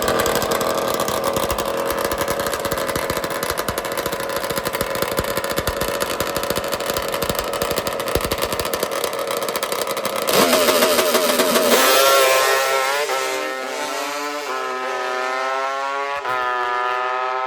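Two-stroke 1970s motorcycles, including a purple H2, race at a drag racing nationals, with a dense, loud, raspy engine buzz that drops into sharp, rising revs and pitch sweeps as a bike accelerates away.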